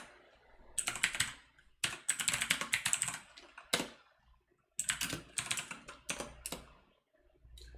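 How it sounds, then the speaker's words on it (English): Clattery mechanical keyboard typing in rapid bursts, close and crisp, broken by short silent gaps. "I'm using mechanical keyboard today, so let me know if it makes too much noise in the stream"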